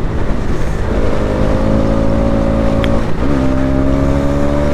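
An RS motorcycle accelerates at speed. A steady engine drone climbs in pitch, dips at a gear change and climbs again, loud and close under heavy wind roar, with no talk.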